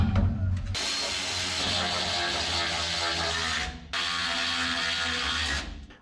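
A power tool tightens bolts on a homemade dump bed for a mini dually work truck, giving two loud, sustained whirring runs close by with a short pause between them.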